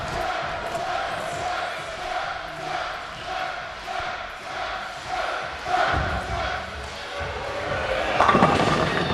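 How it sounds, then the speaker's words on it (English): A bowling alley crowd at a professional league final cheers and roars for bowler Quintero, a sustained noisy din with shouts and a few thumps, with commentators talking over it. "Now look at Quintero get the crowd going."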